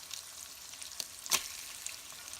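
Tortilla frying in a big skillet beside pork carnitas, a steady faint crackle with a sharper sizzle burst near the middle and a few light clicks, no voices.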